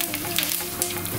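Mustard seeds crackle in two tablespoons of hot coconut oil, a steady close sizzle broken by a few sharp little pops.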